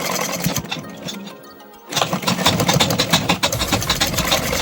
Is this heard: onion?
no